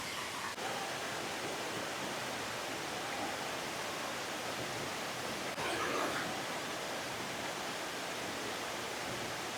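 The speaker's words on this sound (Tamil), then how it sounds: "இந்த வாட்டர் ஃபால்ஸை பொறுத்த வரைக்கும் நல்லபடியாக தண்ணி போகுது" Kumbhavurutti waterfall in Kerala pours with a steady, full broadband rush of falling water that stays even and close throughout, with a brief louder surge partway through and no voices.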